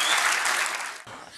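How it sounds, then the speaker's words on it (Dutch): Brief burst of enthusiastic applause from an audience at a student event in Maastricht, loud at first and then tapering off as the clapping thins out. "Geef maar een applaus."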